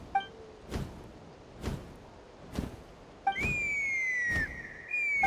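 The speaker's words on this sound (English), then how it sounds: "That sounded like a whistle." Whistling in the Genshin Impact game sounds in short, thin tones, followed by a longer sustained whistle that slowly slides downward, set against repeated soft thumps.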